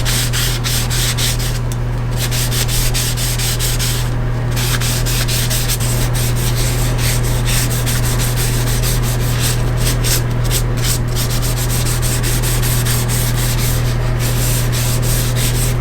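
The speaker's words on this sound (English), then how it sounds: "we'll just put a coat of boiled linseed oil on that handle" Boiled linseed oil is rubbed by hand onto a carved green-wood handle on a Mora Classic knife. Steady, close, continuous rubbing and scraping fills the whole stretch, with no voices.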